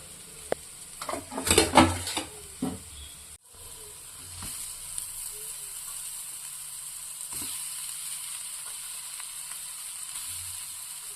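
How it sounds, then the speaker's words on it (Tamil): Soya chunks fry in a pan with masala, giving a steady hiss of sizzling throughout, with a few scraping stirs and clinks of a spoon against the pan near the start. "இப்போ இது நல்லா மசாலாவோட மிக்ஸ் ஆகுற அளவுக்கு நம்ம வந்து கிண்டிக்கலாம்"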